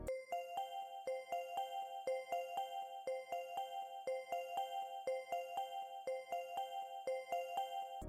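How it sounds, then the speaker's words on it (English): A bright synthetic bell plays a repeating melodic pattern, clear tones with ringing overtones, steady rhythm, alone and moderately quiet. "Then I went in with a bell."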